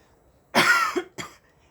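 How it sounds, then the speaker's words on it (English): A person clears their throat and coughs, attributed to acid reflux: one harsh, raspy burst lasting about half a second, then a shorter second cough after a brief pause, close and loud against a quiet room. "why I keep clearing my throat and coughing so much"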